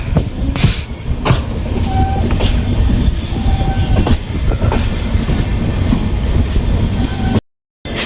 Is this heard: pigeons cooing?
no